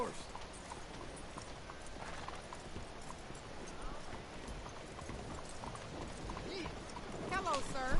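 Horse hooves clip-clop in Red Dead Redemption 2, a steady rhythmic patter of hoofbeats on the street at moderate volume, with a character's voice and a short whinny near the end.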